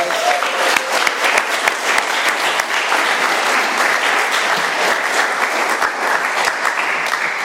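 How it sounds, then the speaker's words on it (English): An audience at an AA meeting in Doylestown, Pennsylvania, claps for a speaker named Robert, a dense, sustained round of applause from a roomful of people, loud and even from start to finish. "Let's give Robert another round of applause."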